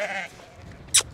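A blue-faced Leicester ewe in a lambing pen gives a single short, loud bleat near the end, preceded by fainter murmuring farmyard sounds.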